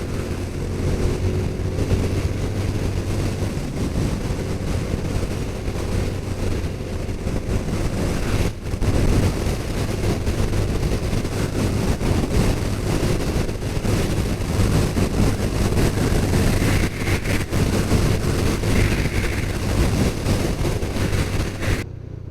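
A 2022 Honda Super Cub 125 engine at full throttle drones steadily at high revs for the whole stretch, a constant buzzing roar with wind rush over the microphone, close and loud.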